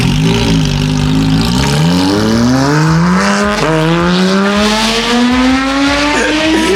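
Loud, close engine of a Nissan R35 GT-R, tuned, revving hard toward 9,000 RPM, with rising harmonic wails climbing through repeated pulls and gear changes and a raspy, aggressive tone throughout.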